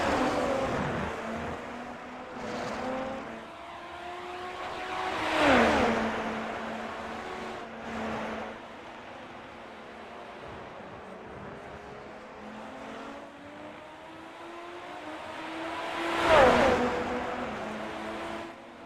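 Super Formula race cars from a racing video game, recorded at the Canadian Grand Prix, whine past with rising and falling engine pitch and gear shifts, two loud close passes standing out against a steady background drone.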